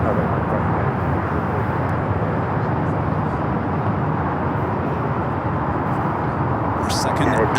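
United Airlines Boeing 757-200 taking off from runway 25 Left at Los Angeles International Airport bound for Newark, a loud, steady broadband jet roar holding for several seconds at close range.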